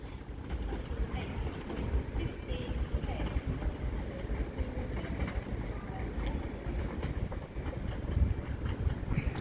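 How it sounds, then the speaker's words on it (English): Two trains pull out of Manchester Piccadilly onto the West Coast Main Line with a steady, moderately distant rumble of wheels and carriages. Faint rhythmic rail clatter runs beneath throughout. "as these two trains head to their respective destinations"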